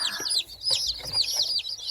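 Baby chicks peeping in a group, with many rapid high chirps overlapping continuously throughout, close and fairly loud, along with a few soft rustles.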